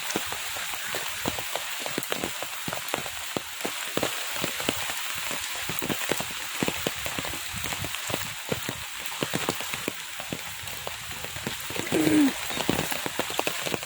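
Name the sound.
heavy rain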